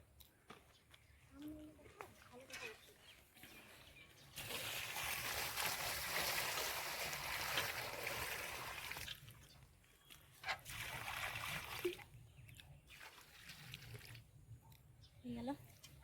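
Water is poured over a home garden in a loud, steady gush and splash lasting several seconds, with a shorter pour afterward, while voices talk at other moments.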